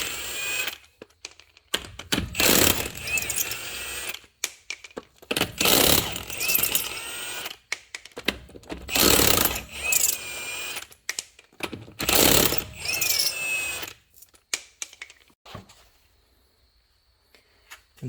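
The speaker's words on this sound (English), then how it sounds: "we gotta get the wheel off." Lug nuts being spun off the front wheel of a 2015-2019 Hyundai Sonata with a ratchet or power tool, heard as four loud mechanical bursts of whirring and clicking a few seconds apart, with quieter handling noise between them and no talk.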